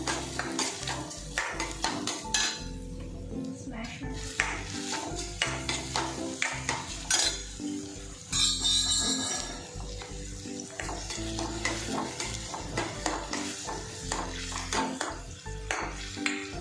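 Finely chopped onions for pav bhaji are stirred in a hot pan, a spoon scraping and clattering steadily over a constant sizzle of frying, close and busy throughout with no talk.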